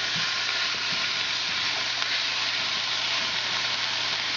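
Sausage with garlic, oregano and chilies frying in a pan, a loud continuous close sizzle with faint stirring ticks, no voices.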